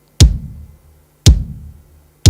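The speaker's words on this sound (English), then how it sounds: "The next one is the bass drum." Electronic rhythm pad playing its bass drum sound: deep booming kicks with a clicky attack, two full hits and the start of a third about a second apart, loud and close without speech.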